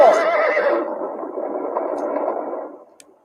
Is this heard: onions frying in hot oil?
no